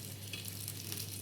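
Paneer cubes fry in oil for crispy homemade paneer, a soft, steady sizzle with light crackles, quiet and brief, with no one speaking.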